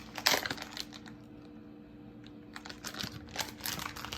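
Quick, close taps on a computer keyboard come in short irregular bursts at a low level, with a brief pause in the middle and no talking.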